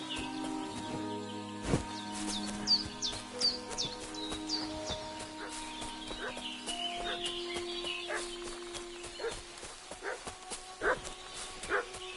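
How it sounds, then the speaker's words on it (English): Dog barking repeatedly in the medieval village world of Kingdom Come: Deliverance II, sharp yelps over ambient birdsong and chirps with soft background tones. "What's that dog making such a fuss about?"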